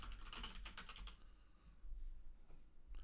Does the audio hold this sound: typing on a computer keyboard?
yes